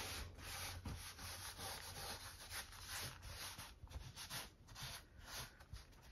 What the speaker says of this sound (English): Once you get it on there, gently rub your fingers around it.